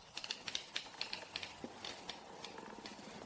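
The coated stainless steel bezel of a Luminox Master Carbon SEAL automatic 45mm watch is rotated, giving a series of crisp, close ratcheting clicks in quick irregular bursts against a quiet background.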